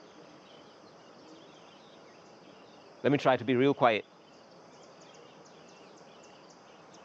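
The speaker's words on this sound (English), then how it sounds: "I don't know if you can hear the chirping of the birds" Outdoor birdsong and insect chirping carry faintly in the background, thin repeated high chirps over a quiet ambience, briefly interrupted by a person speaking softly.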